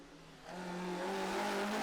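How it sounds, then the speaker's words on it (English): A Vauxhall Corsa rally car racing at Donington Park, its engine note rising steadily as it accelerates and grows louder, heard alone. "it was the Vauxhall Corsa of Matt Wood and Daniel Petrie that were quickest"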